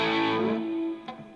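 Electric guitar played through a distortion effect on an iPad via an iRig HD 2 interface, a single sustained crunchy chord that fades and cuts off, followed by a faint pick noise.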